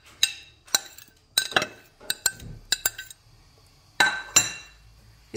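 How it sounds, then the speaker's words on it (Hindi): A spoon stirs chopped strawberries into jelly in a glass bowl. About a dozen crisp, separate clinks fall in an irregular rhythm, close and fairly quiet, with short silences between them. "अब इस जेली में मैं स्ट्रॉबेरी मिक्स करूंगी।"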